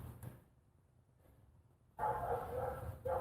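Working dogs bark near a build site where an ambulance is being converted to an RV, with a burst of loud, harsh barking starting midway and continuing in repeated bursts over quiet background.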